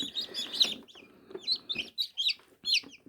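Newly hatched chicks peep in an incubator, a run of sharp, high chirps in quick irregular bursts, close and fairly loud, with no talk.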